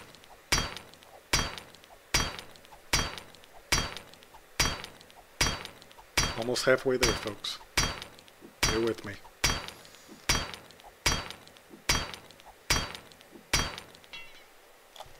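Hammering in the video game 7 Days to Die: steady, evenly spaced sharp metallic strikes, about one every half second, repeat throughout, with someone briefly talking over them midway.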